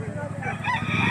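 A rooster crows close by at a chicken auction market in Lipa, Batangas, with the call rising over a low background murmur and voices.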